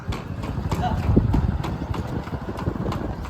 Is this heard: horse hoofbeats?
yes